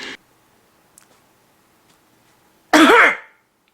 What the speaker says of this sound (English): he tries to mask it with a cough before taking the book